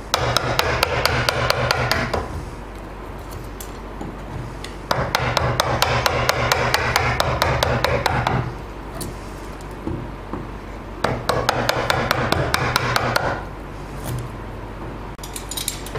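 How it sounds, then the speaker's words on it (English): A chisel is tapped and pared into timber to cut a recess for a butt hinge, with bursts of rapid sharp knocks and scraping separated by quieter pauses, close and fairly loud. "we are now ready to gently chisel out the required amount of timber"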